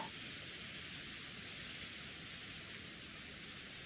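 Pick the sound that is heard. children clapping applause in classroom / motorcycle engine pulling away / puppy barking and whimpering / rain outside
rain outside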